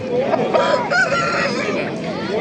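A rooster crows loudly and close by at a market in Namangan, Uzbekistan, its drawn-out call standing out over a steady murmur of background noise.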